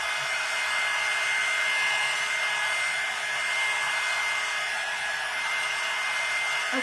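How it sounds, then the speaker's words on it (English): A hair dryer blows steadily on a freshly painted watermelon coaster, a constant loud whooshing hum with a fixed motor whine, uninterrupted and close. "And you can use a blow dryer"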